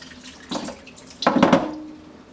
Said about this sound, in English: So make sure you pour all the water.